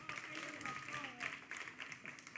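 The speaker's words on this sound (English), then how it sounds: "Give them a round of applause" A church congregation applauds its worship team during a Sunday service, a faint but continuous wash of many hands clapping from a distance.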